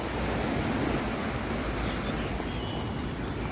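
Ocean waves wash continuously into a bay near a waterfall, a broad steady rushing roar without distinct breaks, moderately loud and with no voices over it.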